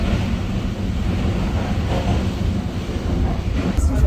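Inside a moving Vietnamese sleeper train, a steady low rumble and rolling rattle fill the carriage continuously, close and loud, with no distinct speech.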